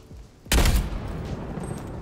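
A Barrett .50 cal sniper rifle fires in Call of Duty: Black Ops Cold War, a single sudden loud blast followed by a rumbling, echoing tail that slowly fades.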